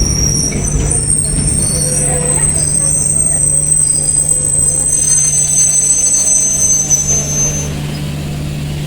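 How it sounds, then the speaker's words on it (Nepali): A Katihar Express train from Bihar pulls into a station with loud, sustained high-pitched wheel squeal over a steady low rumble, close by and continuous throughout. "यो आयो कटिहार एक्सप्रेस बिहारबाट आएको छ"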